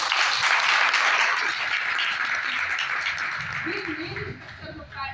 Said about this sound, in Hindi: तालियां बजा सकते हैं अपने लिए।